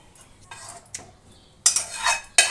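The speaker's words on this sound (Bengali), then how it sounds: "যার জন্য আমি এরকম একটা জার নিয়েছি, ব্লেন্ডিং ঢেলে নেব।" Cooled cooked tomatoes, cooked with garlic for homemade tomato sauce, tipped from a pan into a blender jar, giving a few sharp clattering, scraping bursts of metal and glass close by, with quiet gaps between them.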